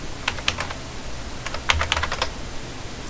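Computer keys are pressed close up for a shortcut while modelling in Blender, in two quick clusters of sharp clicks separated by a brief pause, with no talking.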